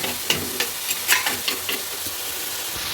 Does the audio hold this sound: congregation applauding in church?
no